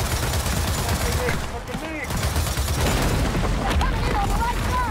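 A .50 caliber turret in the Gears of War 4 video game fires continuously, a dense, loud barrage of heavy gunfire with whistling, swooping tones and impacts mixed in throughout.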